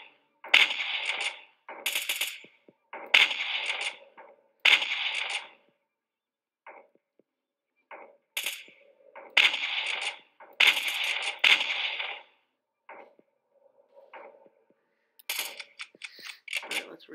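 A shotgun fires and reloads in the survival video game 13 Days After, sharp loud blasts in irregular clusters separated by silent gaps, with softer mechanical clacks of reloading in between.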